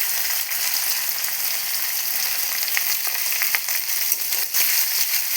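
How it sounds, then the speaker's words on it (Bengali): Chopped onions frying in a pan on a lowered gas flame, a loud dense continuous sizzle with occasional crackles and stirring scrapes, close up and without speech. "পেঁয়াজটাকে এবার 2 থেকে 3 সেকেন্ডের মতো ভেজে নিব"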